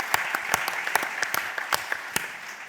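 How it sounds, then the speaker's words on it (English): An audience at a conference panel claps in a brief burst of applause, dense overlapping hand claps with sharper individual slaps, fairly close and steady. "I think they deserve a huge and final round of applause."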